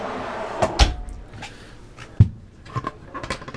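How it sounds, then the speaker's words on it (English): A slide-out pantry in a 2016 Airstream Flying Cloud 23D travel trailer opening with a few sharp clunks and knocks, then a softer sliding rattle, close and fairly loud with no talk. "Slide out pantry here."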